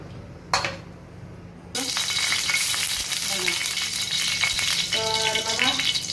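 Oil starts hissing loudly in a hot pan partway through as eggplant slices go in to fry, a steady bright sizzle with a few clinks of utensil, close and with no talk.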